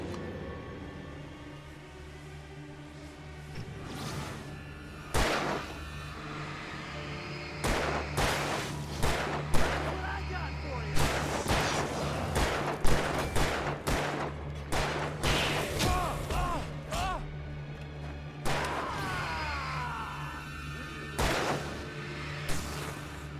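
Gunfire in Alan Wake Remastered, a scattered series of sharp shots and thuds at irregular intervals over a steady low game drone, fairly loud and close.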